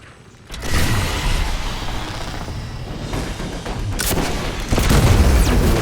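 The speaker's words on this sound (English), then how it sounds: "That bitch is gonna get shot with a rocket." Loud rocket launcher blasts in Destiny 2 gameplay, a heavy booming barrage with broad rumbling impacts filling the clip and a sharper burst near the end, no talk.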